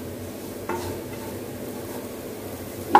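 Potatoes with garlic sautéing in an uncovered pan, a steady gentle sizzle with a brief stir near the start and a clink at the end, no talking.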